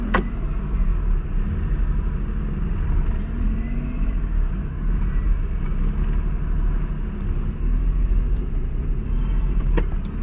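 A Maruti car engine rumbles steadily at low speed while turning during an H-type driving test, close and even, with a few faint clicks toward the end.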